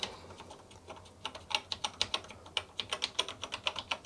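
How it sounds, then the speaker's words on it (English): Keys clatter on a ZX Spectrum computer keyboard during a test, starting sparse and then running as a quick, even series of close, crisp taps with no voices. "And here's a keyboard test."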